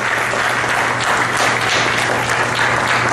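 Church congregation applauding together, a dense, steady clatter of many hands filling the room, loud and continuous with no talking over it.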